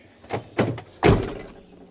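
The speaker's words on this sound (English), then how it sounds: "Shut the door." A van door is handled and shut, with two softer knocks and then a heavier thud, close by in a quiet interior.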